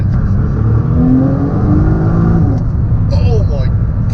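A car accelerating hard in its power band, with a loud, close engine and exhaust roar rising steadily, heard from inside, and a brief exclamation near the end.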